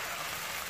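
Chopped onion sautéing in a pan gives a soft, steady sizzle, faint and brief, with no voices.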